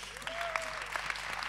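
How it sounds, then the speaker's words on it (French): Faint audience applause at an indoor event, soft steady clapping from a crowd with a voice briefly heard over it. "On peut l'applaudir."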